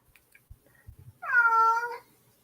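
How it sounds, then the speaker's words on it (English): A house cat gives one clear, close meow of about a second, preceded by a few faint taps and rustles in an otherwise quiet room. "El gato."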